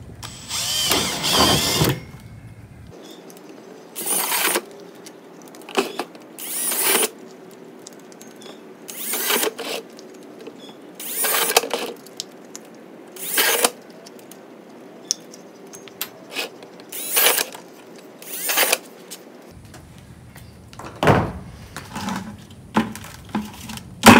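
Drill boring holes in a plastic five-gallon bucket lid: a string of about eight short, loud whining bursts, each a second or two long, separated by pauses with light handling noise.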